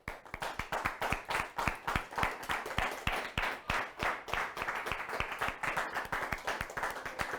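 Audience clapping at an art exhibit opening at a studio gallery, a steady run of sharp hand claps that carries on evenly throughout, fairly close and moderately loud.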